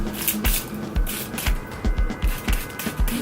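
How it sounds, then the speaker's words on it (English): A handheld spray bottle mists hair in quick repeated bursts, roughly two per second, each a close, short hiss. "so I'm gonna spray my hair"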